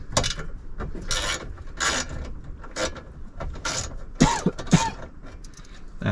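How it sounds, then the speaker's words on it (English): Bolts being placed and fastened by hand on a 2006 Ford Crown Victoria P71 police interceptor, heard as a series of close, intermittent metallic clicks and scrapes with a few sharper knocks near the end. "Just gonna place all the bolts up there."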